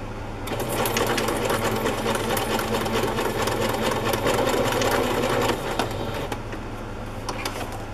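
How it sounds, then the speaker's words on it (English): A sewing machine stitches an odd-shaped fabric scrap in a steady, fast mechanical whir, close and loud, then slows and stops near the end. "I'm just going to sew it"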